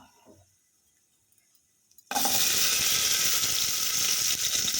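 Onion for a fish curry hits hot coconut oil in a pan. Near-quiet gives way to a sudden loud, close sizzle that keeps frying steadily to the end.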